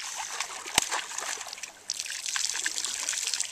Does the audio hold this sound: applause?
no